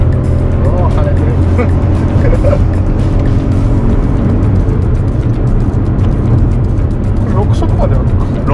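A Honda N-ONE RS with a six-speed manual gearbox pulls uphill in fourth gear, its small engine droning loudly and steadily with road and cabin noise throughout.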